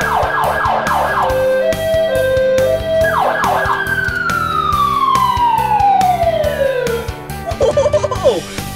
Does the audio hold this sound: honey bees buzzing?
no